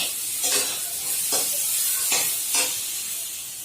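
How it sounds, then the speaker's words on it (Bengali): Pointed gourd (potol) pieces fry in hot oil in a pan for a fish curry, with a steady sizzle broken by four scraping stirs spaced roughly evenly, close and fairly loud with no talking. "এখন পটলগুলো ভেজে নিলাম ভালো করে, একটু হালকা লাল লাল করে পটলগুলো ভেজে নেব।"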